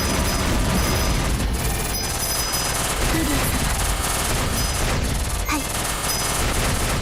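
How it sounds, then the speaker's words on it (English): Continuous weapon fire and a bomb blast in the shoot-'em-up video game Caladrius Blaze on Nintendo Switch roar as a dense, loud barrage of rapid shots and booms with no break. "Gotta use a bomb."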